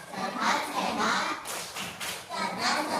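Children in an Indonesian classroom clapping hands in a chanted clapping game, with rhythmic bursts of claps mixed with young voices chanting together, fairly close and lively.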